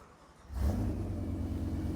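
A car engine catches after a brief crank and settles into a deep, loud rumbling idle with a slight rev, close by and without talk.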